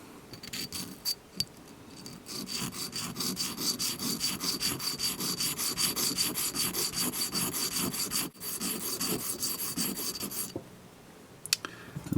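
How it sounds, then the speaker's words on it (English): A Smith & Wesson third-generation pistol part is rubbed back and forth on a standard India sharpening stone, giving a rhythmic, gritty rasping stroke after stroke, close and steady with a brief pause before the strokes resume. "we're going to smooth out the top just by working it on a sharpening stone."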